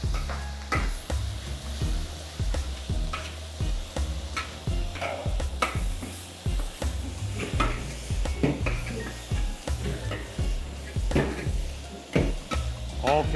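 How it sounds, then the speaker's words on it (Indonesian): Hard vegetables such as carrot and corn are stir-fried in a pan, with repeated scraping and tapping of a spatula against the metal and a steady sizzle underneath, close and moderately loud. "Sayurannya yang keras-keras dulu kita tumis."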